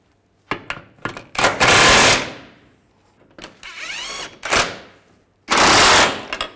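Bursts of a power tool or impact wrench tighten the front lower control arm bolts on a 2006–2010 Volkswagen Jetta, several loud whirring rattles separated by short pauses.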